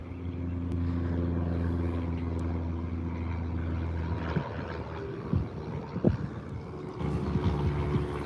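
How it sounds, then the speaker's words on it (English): A propeller airplane passes overhead during a fishing outing, its steady droning hum holding at a moderate distance before easing off, with scattered clunks and handling noises nearby. "There's an airplane."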